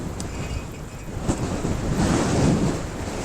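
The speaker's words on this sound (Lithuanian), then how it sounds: "Labai didelis vėjas." Strong wind buffets a cyclist riding a road in the Balkans, a loud broadband roar and rumble of gusts hitting the microphone, swelling toward the end, with no talking.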